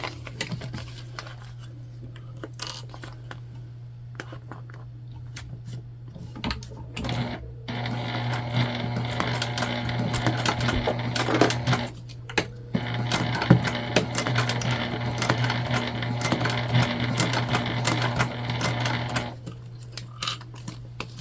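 A sewing machine stitches a clear-bottom pouch at about a quarter-inch seam allowance, running in steady bursts with a constant motor hum, brief pauses and light handling rustles between runs, no talking.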